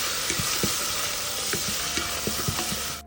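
Chopped large onion sizzling steadily in hot oil in a frying pan, with sharp stirring scrapes and taps of a spoon against the pan over the continuous fry.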